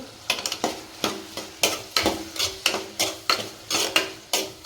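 A spoon stirs and scrapes bottle gourd curry with chili powder in a pan, making about a dozen rhythmic scraping strokes against the metal over a soft sizzle, close and fairly loud with no voices.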